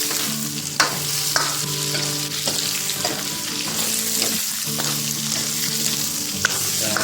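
Ginger, onion and garlic sizzle and fry in hot pork fat in a pan, a steady crackling hiss broken by occasional stirring clinks and scrapes, close and alone without talk.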